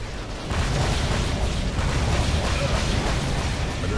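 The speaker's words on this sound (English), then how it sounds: "Another explosion is more like it." Explosion in the Duke Nukem Forever video game, a loud sustained rumbling roar that starts abruptly and holds a dense, broad blast texture for several seconds.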